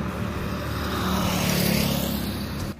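An ALS intercity bus on the Medan–Bogor route rolls past on the road with a steady, heavy engine drone and tyre rumble that holds at close range.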